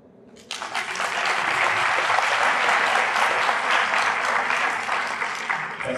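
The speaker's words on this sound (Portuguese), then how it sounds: "Palmas." Loud, sustained applause from a conference audience at SBGames 2014 erupts suddenly and continues steadily with dense clapping throughout.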